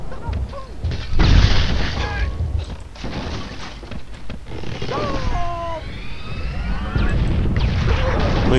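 A tank fires in the video game Angry Birds Star Wars 2, with loud booming shots and blasts mixed with game effects, rising tones and bird chirps, while someone talks throughout.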